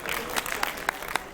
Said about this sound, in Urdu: بہت ساری تالیوں میں